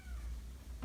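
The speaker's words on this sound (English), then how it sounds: "Why is the cat doing that?" A cat lets out a brief meow, fairly faint against low background rumble, ending with a slightly louder burst at the close.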